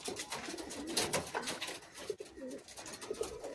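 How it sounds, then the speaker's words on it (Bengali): A pair of short-sized Madras pigeons coo softly in low, rolling calls, quiet and fairly close, with faint background noise around them. "খুব সুন্দর জোড়া ছিল, খুব বড় সাইজের পায়রা নেই, শর্ট সাইজের পায়রা।"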